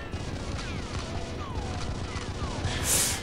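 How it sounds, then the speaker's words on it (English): Gunfire shootout in the video game GoldenEye, a dense continuous crackle of shots and bursts throughout, with a louder blast near the end and faint tonal sweeps beneath. "Look at this shootout."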